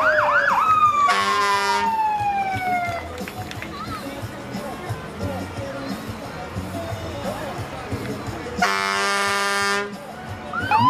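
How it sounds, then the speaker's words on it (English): A Granger Fire Department fire engine siren wails with rising and falling sweeps and blasts of an air horn, loud and near, while a crowd talks at a cherry festival parade. "That's the last year this fire engine will make an appearance."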